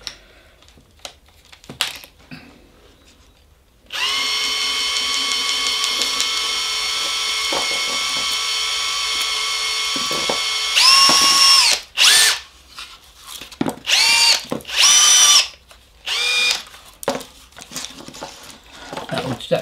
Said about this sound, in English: In fact, I'll use my drill to speed this up a bit.